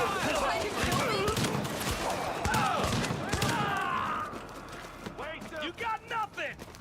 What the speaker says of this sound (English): What are these guys just shooting at NPCs?